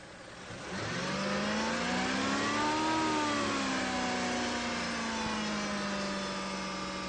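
A Mazda MX-3 engine runs at a held 2,000-3,000 RPM, a steady mid-pitched hum that rises briefly then settles into an even drone, loud and alone.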